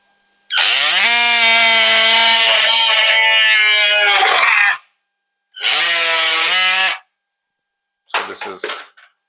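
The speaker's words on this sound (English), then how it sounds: "and then we use the saw" Surgical power saw cutting through the distal femur during a rotating hinge knee replacement, a loud high whine in three bursts: a long cut, a shorter one, then brief stuttering touches, close and alone.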